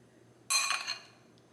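A metal spoon gives a single bright clink against a dish of lasagna topped with Parmesan, then a short ring that fades within a second in a quiet kitchen.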